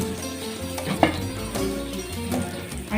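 Macaroni spaghetti being stirred in a cooking pan, with soft sizzling underneath. Repeated scraping and clinking strokes come close up at an irregular pace.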